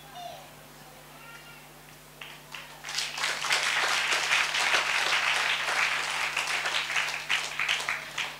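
A church audience breaks into clapping, starting with a few scattered claps and swelling into sustained loud applause from many hands that carries on to the end, with a brief voice heard at the start.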